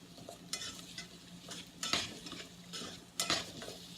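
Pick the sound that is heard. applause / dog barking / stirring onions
stirring onions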